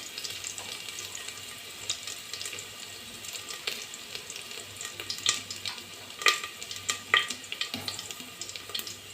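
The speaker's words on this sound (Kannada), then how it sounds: "ಚಕ್ಕೆ ಎಲೆ, 1-2 ಪೀಸಷ್ಟು ಚಕ್ಕೆ, ಒಂದು 3 ಲವಂಗ, 2 ಏಲಕ್ಕಿ ಹಾಕೋತಾ ಇದ್ದೀನಿ." Whole spices such as bay leaf, cinnamon, cloves and cardamom frying in oil for mushroom masala, a steady close sizzle with scattered sharp crackles and pops growing busier, no voices.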